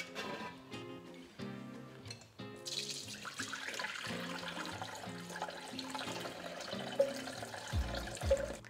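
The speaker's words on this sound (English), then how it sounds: "we're going to carefully pour all of our curds and whey through the strainer" Curds and whey from goat's milk, made for feta, pour through a strainer in a continuous splashing, trickling stream that grows louder and fuller after a few seconds.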